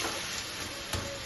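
Eggplant stirred in a frying pan after the lid comes off, a steady low sizzle with a brief scrape of the utensil near the end, no talking.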